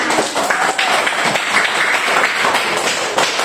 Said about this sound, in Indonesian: Oke, mari kita tepuk tangan.